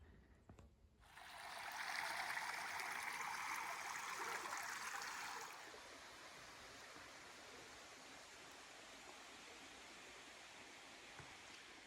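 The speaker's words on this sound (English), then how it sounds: "we're also near a creek" A creek beside the Rose River Trail rushes steadily in a broad, even wash, louder for the first few seconds and then settling into a softer continuous flow, with no talk.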